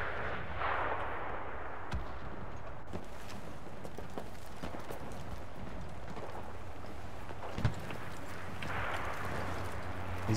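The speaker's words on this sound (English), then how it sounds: "Oh, there goes the bombs." Bombs explode in the World War II shooter game Enlisted, giving low booming rumbles under constant battlefield noise, with a few scattered sharp reports, fairly distant and steady.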